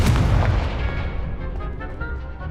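A Confringo blasting spell explodes in the Hogwarts Legacy video game, a single loud, close, booming blast that rolls and decays over a couple of seconds, with no voices.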